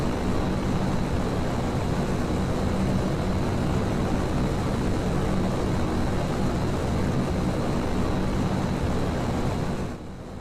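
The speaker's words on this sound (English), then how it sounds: "we will be continuing this burn to 10 plus 3 minutes where it will shut down" A rocket engine static fire burn at a test stand gives a loud, steady broadband roar that holds for about ten seconds before easing off at the very end, with no voices over it.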